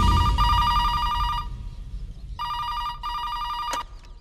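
A telephone rings in a movie scene: two bursts of bright, continuous electronic ringing separated by a short pause, loud and close, with no voices over it.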